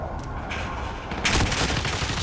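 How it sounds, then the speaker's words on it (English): Precision airstrike explosions boom in the Call of Duty video game: a heavy rumble of gunfire swells into a loud, dense burst of blasts halfway through. "Enemy precision airstrike inbound."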